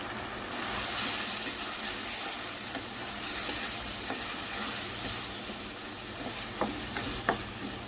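Brinjal and dried fish frying in hot oil, a steady broad sizzle and hiss running throughout with a few sharp pops near the end, close and fairly loud with no talking.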